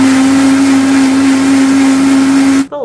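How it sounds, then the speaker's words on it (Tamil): A kitchen mixer grinder blends mint, curry leaves, ginger, cucumber and water, giving a loud, steady motor whine that holds for over two seconds before it is switched off and spins down. "மிக்சியில் அடித்து கொண்டு"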